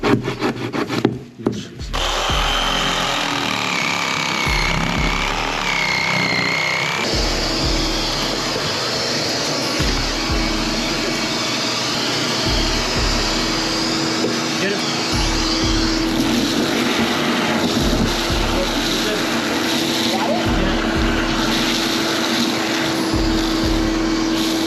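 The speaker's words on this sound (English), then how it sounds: "So we're gonna use the rat vac right now." A rat vac machine runs steadily throughout, a continuous mechanical drone with rhythmic low thumps and scraping, rubbing noise, close and loud, with no talking.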